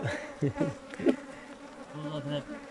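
Honey bees buzz around a hive frame during a hive inspection, a soft continuous hum with brief louder passes as insects fly close, and a low tonal drone near the end.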